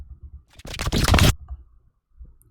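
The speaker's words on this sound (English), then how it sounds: "Little sound design sweep thing." Sound-design sweep with glitchy effects from an electronic remix: a dense, bright swell of broadband noise rises sharply, holds for under a second with stuttering texture, then cuts off into sparse low rumble and quiet glitch ticks.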